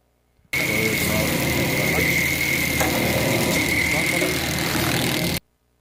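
A salmon filleting machine starts up for a test run, switching on abruptly into a loud, steady mechanical roar with a sustained whine for about five seconds before cutting off sharply.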